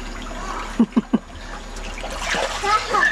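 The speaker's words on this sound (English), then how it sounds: "no splashing" Children splash water in a backyard swimming pool, with three quick close splashes followed by softer sloshing and bright shouting voices nearby.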